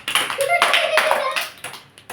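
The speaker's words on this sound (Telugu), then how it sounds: "జ్యోతి క్లాప్స్ కొట్టండి." Children in a Sunday school class clap in short, uneven bursts close by, mixed with young voices talking over the clapping.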